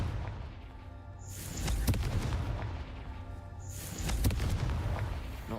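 Two booming fiery blasts from the Confringo spell in the Hogwarts Legacy video game erupt a few seconds apart, each a loud burst with a crackling, rumbling tail over steady game background sound.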